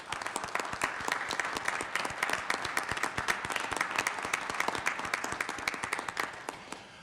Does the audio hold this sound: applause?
yes